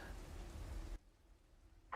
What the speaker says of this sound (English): Again, the rain outside, and the three of you are inside.